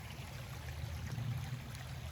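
A small side branch of a mountain stream flows steadily nearby, a continuous low rushing and trickling with no voices.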